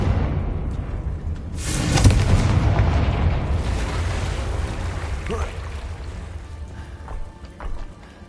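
A Confringo blasting spell in Hogwarts Legacy sets off a booming explosion. The heavy blast swells, then rumbles and fades over several seconds into scattered smaller crackles and thuds.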